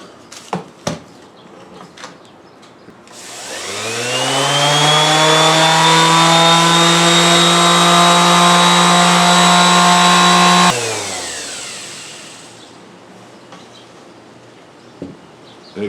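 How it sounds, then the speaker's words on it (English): A random orbital sander spins up with a rising whine, holds a loud, steady motor hum for about seven seconds, then winds down. A few light knocks come before and after. "Let's talk about your random orbital sander."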